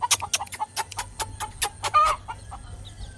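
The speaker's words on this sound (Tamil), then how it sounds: "கோழி கத்துது." Chickens clucking close by: a rapid string of sharp, repeated clucks with one brief higher squawk, over a low steady background hum.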